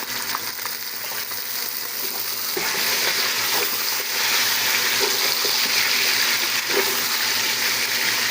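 Chicken frying in a pan with browned onions, a loud, steady close-up sizzle with bubbling crackle that holds throughout and grows slightly stronger.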